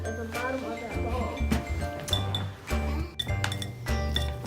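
Spoon stirring homemade borax-free rainbow slime in a bowl, giving repeated light clinks and taps against the bowl with a soft squelchy churn underneath, close by, with voices talking over it.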